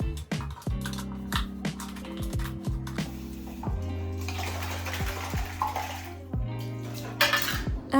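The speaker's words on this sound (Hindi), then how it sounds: "मैं इस पर ना ऐसे हैंड वॉश लेके और पानी को लेके ऐसे शेक कर रही थी" Plastic toothbrush holder being shaken with hand wash and water: repeated clattering knocks and sloshing splashes in a bathroom, close and fairly loud, in irregular bursts.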